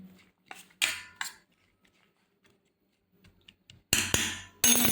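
A metal spoon mixing turmeric in a bowl makes sharp scattered clinks and scrapes separated by quiet gaps, and grows into louder clattering bursts toward the end.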